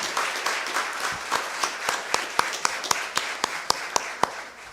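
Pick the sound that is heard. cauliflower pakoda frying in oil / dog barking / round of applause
round of applause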